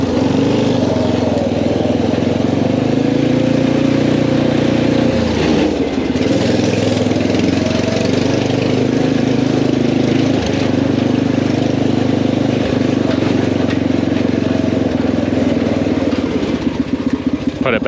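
A Cushman Truckster utility vehicle with a swapped engine drives in first gear, its steady low engine drone running close and loud without a break, with only slight wavers in pitch.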